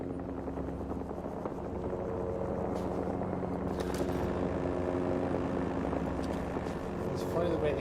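Helicopter rotors drone steadily in a video game, a continuous low whirring wash that runs throughout at moderate loudness with faint voices beneath.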